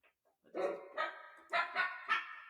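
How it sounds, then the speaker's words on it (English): Recorded dogs barking and yipping in pitched, tuneful bursts that render Scott Joplin's Maple Leaf Rag, about five short, close barks in a quick rhythm. "this is what Scott Joplin's Maple Leaf Rag sounds like if dogs were singing it"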